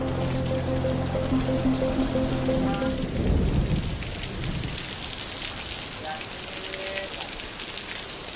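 Steady heavy rain hisses throughout with a low thunder rumble, faint music fading out at the start.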